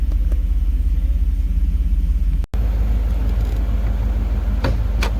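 A Chevrolet Camaro or Firebird engine idling at operating temperature, a steady close low rumble with one very brief dropout midway.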